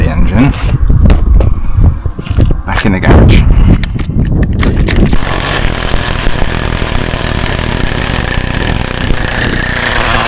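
A nitro RC buggy, a Condor Pro with a preheated engine, splutters through rough starting attempts before catching and settling into a loud, continuous high-revving buzz close by.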